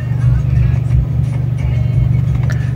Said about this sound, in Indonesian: Mesinnya udah posisi nyala guys, tuh RPM nya di 900